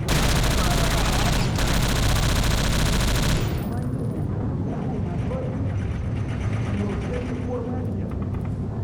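A turret machine gun fires a dense, loud sustained burst for several seconds in the World War Zero Iron Storm video game, then cuts off, leaving rumbling battle ambience.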